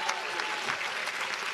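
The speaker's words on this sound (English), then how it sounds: "two rounds of applause." A brief burst of continuous audience clapping at an alumni day ceremony honoring a graduating class, steady and moderately loud.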